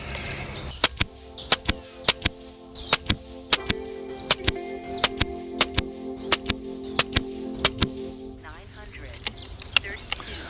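A Daystate Pulsar HP .22 air rifle fires a long series of sharp, close shots at a fairly steady pace, roughly one per second, with a faint mechanical hum underneath and quiet handling noise near the end.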